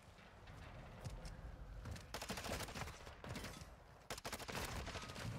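Bursts of gunfire in the video game Modern Warfare 2 during a one-on-one match, several rapid volleys over a constant rumbling game backdrop, fairly faint overall.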